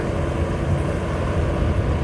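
A white XCMG XE205 excavator's diesel engine runs at a worksite where laterite is loaded into a dump truck, a loud, steady low rumble throughout without talk.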